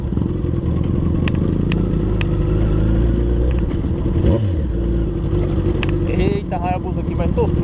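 A tuned Suzuki Hayabusa motorcycle at speed toward 210 km/h gives a loud, close, continuous engine drone, with a sharp rising rev sweep midway and voices talking over it.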